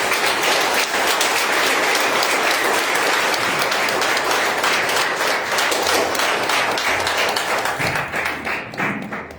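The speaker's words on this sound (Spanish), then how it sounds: "Dar un aplauso al Rey de Reyes." Church congregation applauding during a Spanish-language service, a loud, dense, sustained burst of clapping that fills the room and tapers off at the end.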